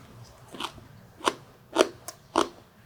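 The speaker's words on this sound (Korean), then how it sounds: "먼저 대파김치를 굽지 않은 걸 먼저 맛을 보도록 하겠습니다" Four or five crisp, crunchy bites into uncooked green onion kimchi sound close up and fairly quiet, spaced about half a second apart over a soft background.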